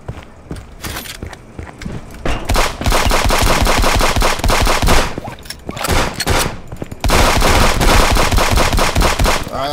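Rapid bursts of gunfire from pistols in a violent multiplayer video game, loud and close, with dense volleys of shots and short pauses between them; no voices.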